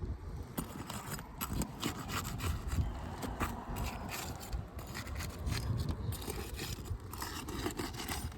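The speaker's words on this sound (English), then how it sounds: "I'm going to start off by breaking the seals so we can get to our nails." A roof snake pries and scrapes beneath brittle asphalt shingles to break their seals, giving repeated close rasping and scraping strokes with brief cracking snaps, quiet and irregular.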